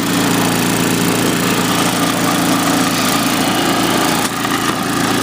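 MTD snowblower engine running steadily with the auger turning, a loud continuous buzzing drone close by that holds level the whole time, with no talk over it.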